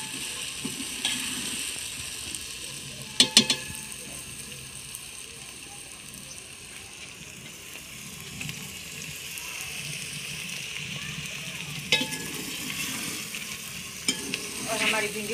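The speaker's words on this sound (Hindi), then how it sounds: "प्याज भी और भिंडियों को तड़का लग रहा है।" Steady frying hiss of okra and onion in hot oil, with a few sharp clinks of a utensil against the pan and occasional stirring.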